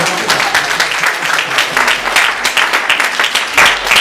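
A church congregation gives loud, lively applause for a member's birthday during a Sunday service, dense clapping with crowd murmur running throughout.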